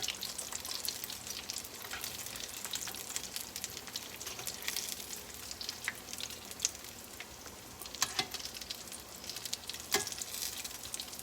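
Mac and cheese balls deep-frying in hot oil at about 365–370°F, giving a steady, dense sizzle with scattered crackles and pops throughout, close and continuous with no talking.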